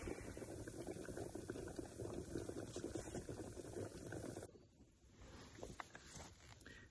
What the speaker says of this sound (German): In diesem Topf kochen Kartoffeln.